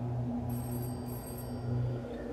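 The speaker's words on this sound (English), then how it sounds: "I felt the ringing pounding at the back of my skull." A telephone rings in the horror video game Hollowbody, a faint electronic trill sitting over a loud, droning low hum of ambient game noise.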